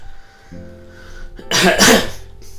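A single sharp, close cough bursts out after a quiet pause, loud and breathy.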